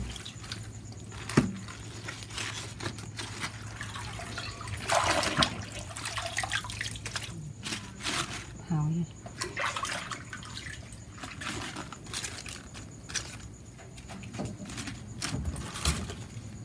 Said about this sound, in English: Pour out the water, rinse out the bowl. Refill it with cold water.